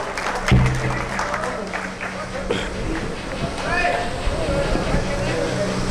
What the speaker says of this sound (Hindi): एक बार जोरदार तालियों से प्रदेश अध्यक्ष स्वागत करें।